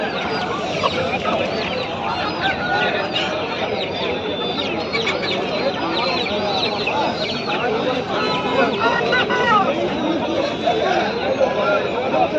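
Salem breed chickens cluck at a crowded Sunday market in Pileru, their overlapping calls mixing with steady chatter from people haggling nearby.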